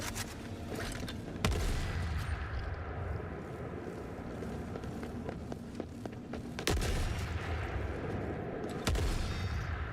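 A gun fires in the war shooter game The Forever Winter. Three loud, sharp blasts come seconds apart over a steady rumbling battlefield background.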